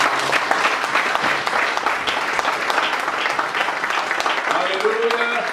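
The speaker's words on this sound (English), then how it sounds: "Let's clap our hands for Jesus" A church congregation clapping their hands together during a worship service, a dense continuous patter of many hands close by with voices mixed in.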